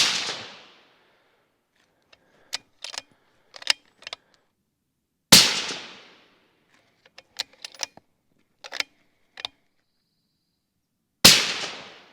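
Three loud, sharp rifle shots from an Accuracy International rifle converted to 6mm Creedmoor, spaced several seconds apart, each with a decaying echo, and faint metallic clicks of the action cycling between them.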